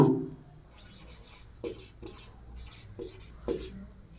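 A teacher writes on a board, making scratchy strokes and a few sharp taps in short bursts, faint and close against a quiet room.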